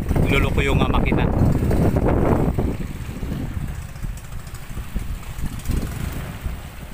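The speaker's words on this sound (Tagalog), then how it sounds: "Yan yung bangka namin, tinitesting ni Unyok kasi kanina nagluloko yung makina" A small outrigger motorboat's engine, which had been misbehaving, runs steadily during a test out on the water, a constant loud rumble mixed with heavy wind buffeting the microphone.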